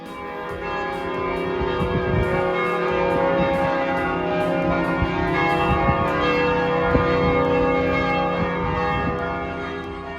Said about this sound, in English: The church bells were ringing